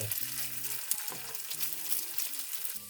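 Hashbrown pancakes frying in oil in a pan, a soft, steady close sizzle with faint crackling and a few light pan touches, and no voices.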